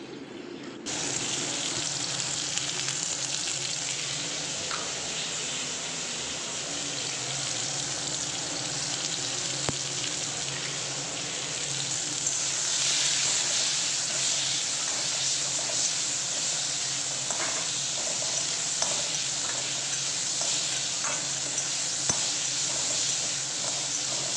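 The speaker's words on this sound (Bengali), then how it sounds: "আলুগুলো দেখো ভাজা হয়ে গিয়েছে" Potatoes frying in oil for a vegetarian drumstick curry make a steady, even hiss close by that runs for the whole stretch without any voices.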